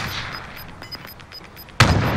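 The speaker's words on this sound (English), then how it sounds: "He's shooting at me from it." Gunfire in Call of Duty: Modern Warfare, a couple of faint shots early on, then a loud sharp blast near the end that carries on as a heavy, sustained burst close by.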